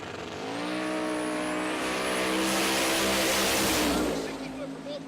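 Two G-Body drag cars racing side by side at Tulsa Raceway Park swell into a loud, sustained engine roar that rises in pitch and fades away. A commentator may be talking underneath.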